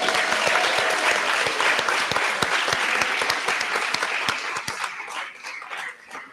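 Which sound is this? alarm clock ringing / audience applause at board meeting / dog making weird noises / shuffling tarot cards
audience applause at board meeting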